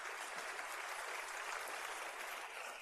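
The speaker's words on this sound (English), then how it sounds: "I want a big round of applause for our alumni" Audience at a school cultural program applauds in a steady, even wash of clapping, fairly faint and distant, with no voices over it.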